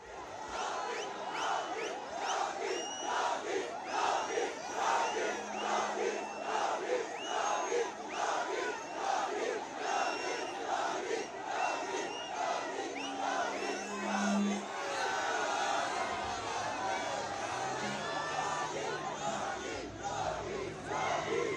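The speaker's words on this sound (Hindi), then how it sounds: "गोशा महल की सड़कों पर उमड़ी ये भीड़, योगी योगी का नारा लगाते लोग" A dense street crowd in Gosha Mahal, Hyderabad chants and shouts slogans, a loud, continuous roar of many voices with rhythmic swells of cheering throughout.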